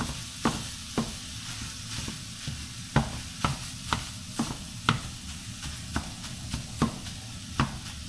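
Ground meat browns in a pan with a low, steady sizzle, punctuated by regular light taps and scrapes of a utensil roughly every half second, close and fairly quiet with no voices.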